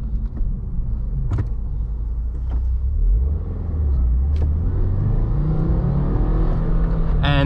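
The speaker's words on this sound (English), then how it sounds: "And this engine revs like so quick." A 2016 Subaru WRX Premium with a 6-speed manual accelerates on the road, its engine note climbing steadily in pitch as it revs up, a continuous rumble inside the cabin.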